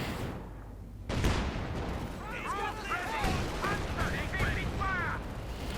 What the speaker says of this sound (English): There's so much BAR fire.